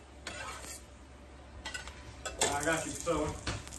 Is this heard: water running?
no